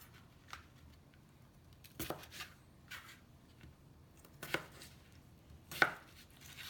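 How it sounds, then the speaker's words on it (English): A knife cuts potatoes into halves and quarters on a board, a handful of sharp separate chops spaced irregularly and close, with quiet gaps between them and no talking. "I'm just going to cut the potatoes in halves, and then the half"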